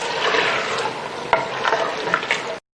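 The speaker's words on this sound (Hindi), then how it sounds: "हमने जो है गोश्त की बोटियाँ थोड़ा भूनना है इसको" Mutton pieces fry in a clay pot, a loud, close, continuous sizzle broken by scraping and clattering stir strokes, with no one speaking.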